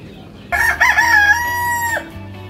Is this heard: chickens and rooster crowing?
yes